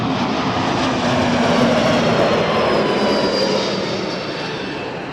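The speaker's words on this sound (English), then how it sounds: "We'll watch the side view of this Transat lining up." An Air Transat jet lines up on the runway at Toronto Pearson, its engines giving a loud steady roar with a rising whine that eases slightly toward the end.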